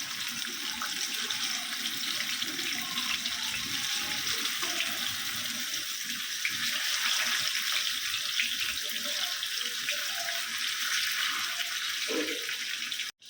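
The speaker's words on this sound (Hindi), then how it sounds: "अभी ये फ्राई हो रही ना मच्छी" Fish fries in a hot pan for a Konkani-style home meal, a dense, even sizzle that holds steady and close throughout before cutting off abruptly at the end.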